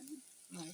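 Vegetables fry in a pan with a soft, steady sizzle and hiss, while a voice murmurs faintly in the background.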